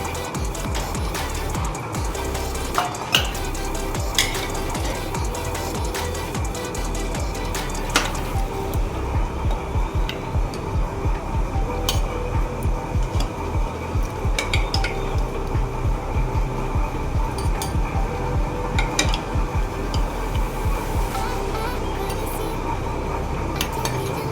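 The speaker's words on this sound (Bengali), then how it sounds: "এবার বাটিতে ঢেলে নেব।" Mutton curry scooped into a bowl with a utensil: repeated close clinks and scrapes of metal against dishware in a steady rhythm, with faint background noise.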